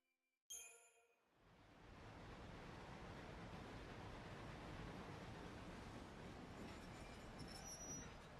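A train pulls into a station in the video game Lightning Returns, starting with a sudden burst and then settling into a broad, steady rumbling roar with faint squeals near the end.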